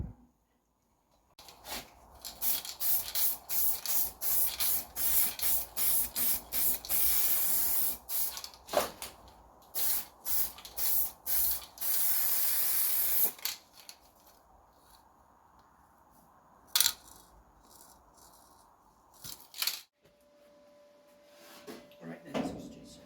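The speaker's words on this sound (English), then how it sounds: "I'm going to put some weld through primer on this area, some weld through primer on this area, just to keep any rust at bay on that joint" Weld-through primer hisses from an aerosol can onto a 1974 MK3 Mini rear body panel joint in repeated short bursts, near and fairly loud, then a few longer sprays with quieter handling noises between.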